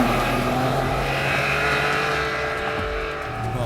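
A Ferrari Enzo hypercar engine at full, loud, continuous roar, winding upward in pitch as it pulls through the gears on a straight.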